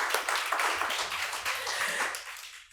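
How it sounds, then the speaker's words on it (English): Audience applauding at a community gathering on solidarity and organizing, a dense, steady wash of many hands clapping, moderately loud and fairly close, continuing throughout with no voices over it. "please feel free to applaud"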